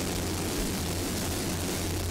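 A Bell Jet Ranger 407 helicopter flies over an offshore powerboat race in Key West Harbor, a dense, steady roar of rotor and engine noise with no pauses and no voices.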